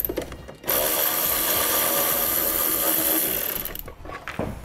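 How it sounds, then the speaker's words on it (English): A power driver spins a T30 Torx bit to back out the bolts holding a vehicle taillight, a loud steady whirring run lasting a few seconds with brief pauses before and after. "These are gonna need a T30 torque bit to get it out of there."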